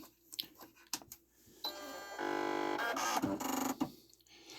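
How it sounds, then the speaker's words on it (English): A Singer Quantum Stylist 9960 sewing machine spools up with mechanical clicks, a rising motorized hum and a couple of brief high beeps, fairly faint and close. "I'll show you how the machine sounds when it spools up"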